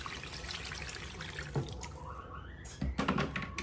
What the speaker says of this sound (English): I'm just gonna add water and cook it.